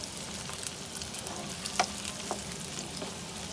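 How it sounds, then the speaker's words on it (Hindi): Pieces of taro root (arbi) fry in oil in a pan, giving a steady dense sizzle with small crackles and occasional soft stirring taps, close and continuous. "1 से 2 मिनट तक अरबियों को अच्छी तरह हम इस तरह फ्राई कर लेंगे।"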